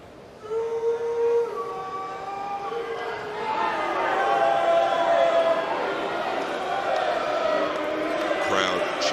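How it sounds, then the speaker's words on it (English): A large arena crowd chants Europe in rising sung tones at a Mosconi Cup pool match, the rhythmic chant swelling louder midway and filling the hall. "Crowd chanting Europe"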